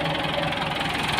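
A Ford 7740 tractor with a post-hole auger attached runs steadily nearby, its engine giving a continuous, even idling rumble with no talk over it.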